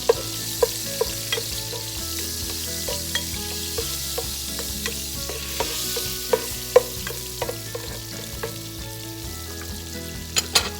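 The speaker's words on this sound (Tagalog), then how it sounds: "Ngayon po natin mag-melt yung ating butter." Butter melting and sizzling in cooking oil in a pan for a Kapampangan creamy sipo egg dish, a steady close frying hiss with occasional sharp crackles and light utensil clicks throughout.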